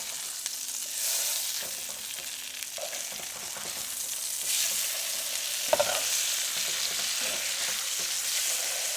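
Skin-on salmon fillets that are already cooked sear in a hot pan, giving a steady, close, crackling sizzle that runs throughout with brief louder pops and no talking.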